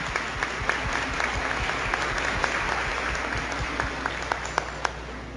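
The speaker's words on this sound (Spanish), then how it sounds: "vamos a reiterarle el aplauso de felicitación a ellos" A church congregation applauds first communicants during Sunday Mass, steady clapping from many hands throughout, with a few sharper, closer claps popping out of the wash.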